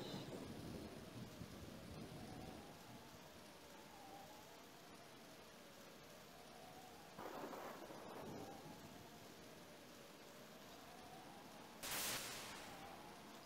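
Steady rain hisses in Pokémon Mystery Dungeon: Explorers of Sky, a constant broadband wash under a faint tonal game melody, broken by a brief thunder crack around the middle and a sharper, brighter thunder burst near the end.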